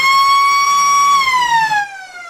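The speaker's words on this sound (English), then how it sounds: "That siren is very loud, and we're right next to it." A very loud siren blares close by at a suburban football ground, a single sustained wailing tone that holds, then slides downward and fades near the end.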